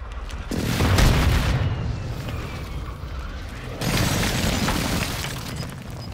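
Airstrike explosions in a battle royale video game: a continuous, loud, rumbling barrage of deep booms, easing off midway and then swelling again with a fresh burst of blasts, with no talk.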